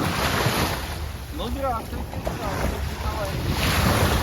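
Sea waves washing onto the beach at Evpatoria, Crimea, with strong wind buffeting the microphone, a steady broadband roar throughout while people speak briefly over it.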